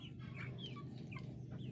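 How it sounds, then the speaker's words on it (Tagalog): Backyard chickens cluck in short repeated calls, several close, fairly quiet clucks scattered over a low steady background hum, with no talking. "tinulong namin ang mga manok"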